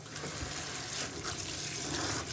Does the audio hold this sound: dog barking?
no